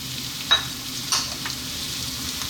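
Garlic, carrots and celery fry in a pot for a lentil vegetable stew, a close steady sizzle broken by two sharp scraping stirs of the spoon.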